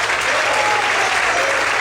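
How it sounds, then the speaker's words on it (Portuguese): A church congregation applauding during a Sunday morning service, dense continuous clapping from many hands filling the room at an even, loud level throughout. "Você pode aplaudir e glorificar a Deus."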